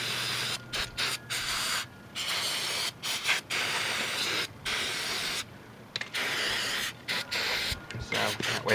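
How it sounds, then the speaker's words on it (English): Brake cleaner sprays from an aerosol can onto a front caliper bracket of a 2008 Subaru Legacy, a series of short, faint hissing bursts separated by gaps. "I'm just going to clean it up with a little brake cleaner"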